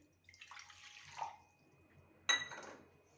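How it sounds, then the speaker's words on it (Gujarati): Half a bowl of water is poured into a bowl in a kitchen while making gathiya batter, giving a short splashing pour followed by a second brief sharp splash, close and quiet. "અડધો વાટકો પાણી લેશું"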